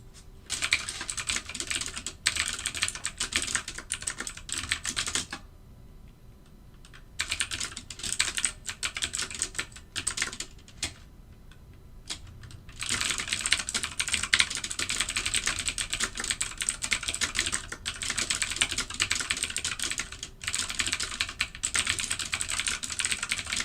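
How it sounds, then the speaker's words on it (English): Rapid, steady typing on a computer keyboard during live automated trading, dense key clatter running near and alone, with two short pauses partway through before the keystrokes resume. "Sorry for all the typing."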